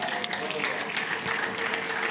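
Congregation applauding in a church right after a sermon on giving first fruits, a dense, steady patter of many hands clapping together throughout, fairly close and filling the room.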